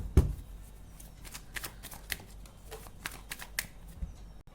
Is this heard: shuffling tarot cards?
yes